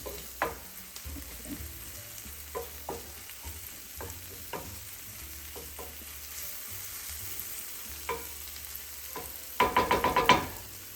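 Roma tomatoes and green vegetables sautéing in a pan for ratatouille with eggplant, with quiet sizzling, scattered utensil scrapes and taps, and a louder burst of stirring and clatter near the end.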